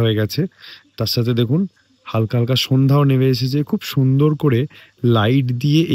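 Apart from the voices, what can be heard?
crickets chirping at evening in the hills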